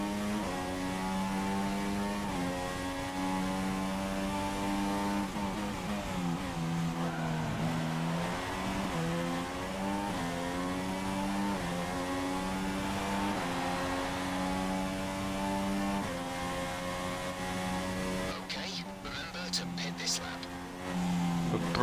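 Formula 1 car engine in the racing video game F1 2016 at the Australian Grand Prix, a loud sustained high whine rising and shifting through gears, with a commentator talking over it.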